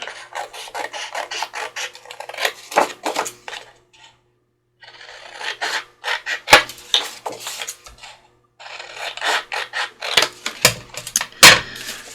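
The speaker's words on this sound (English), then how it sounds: "So I'm just going to trim off this white edge so I can see what we have left." Paper trimming off the white edge of small pocket journal pages, a steady rasping, scraping cut in three long bursts with short pauses, close and fairly loud.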